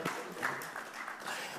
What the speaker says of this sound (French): Quand on fait des belles démos, il faut applaudir.